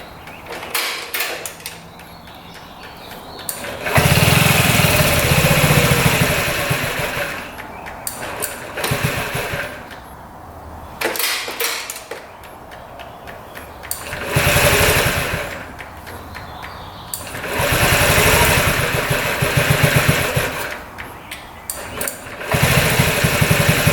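A scooter engine fitted with a new carburetor starts and runs, rising in several loud revving bursts that fall back to a rougher idle between them, heard up close with no talking.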